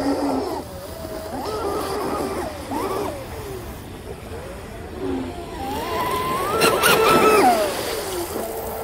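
Fast electric RC speedboat fitted with a three-blade CNC propeller, its motor whining up and down in rising and falling surges, with water rush underneath and a louder full-throttle pass near the end.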